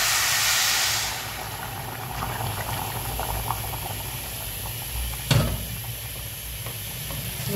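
Water poured into rice frying with dried beef in a pan for carreteiro gives a loud rushing hiss for about a second, then settles into steady bubbling sizzle with a single sharp clink near the end.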